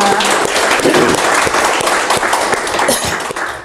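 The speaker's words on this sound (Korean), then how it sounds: "우리가 지금 이 시간 큰 감사한 마음을 담아서 큰 박수 한번 쳐드릴까요?" An audience at a book launch talk gives a big round of applause, dense and sustained clapping filling the room, loud and steady with a few sharper claps standing out.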